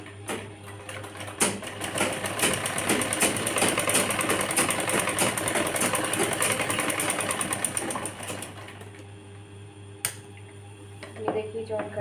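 Close by, a sewing machine stitches a girl's frock in a long, steady mechanical run, then slows and stops, followed by a few faint clicks.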